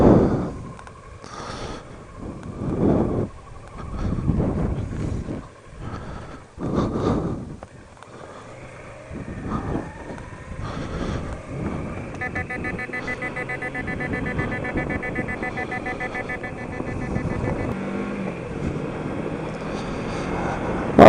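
Wind rushes across a motorcycle rider's helmet on a hot-weather ride, first in buffeting gusts and then as a steadier roar mixed with engine drone, close to the microphone with no talking.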